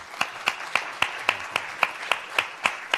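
Audience applause at a talk by chef Marc Vetri on handmade pasta, heard as a slow, evenly spaced run of about eleven distinct hand claps, moderately close and without voices.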